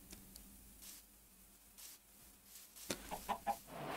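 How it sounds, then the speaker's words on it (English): Faint clucking from a Minecraft chicken in a shader-enhanced world, a few soft, scattered clucks that cluster toward the end over quiet background ambience. "we found a chicken"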